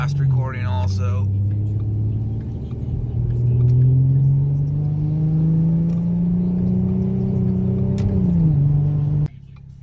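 A 2014 Ford Mustang with the 3.7 V6 on a 93 tune drives on wet roads at partial throttle, a steady engine drone rising slowly in pitch before a shift drops it near the end, heard from inside the car.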